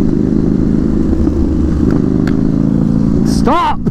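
Very loud motorcycle engine running continuously at close range with a rough, clattering idle, rising into a short rev near the end, while people shout over it.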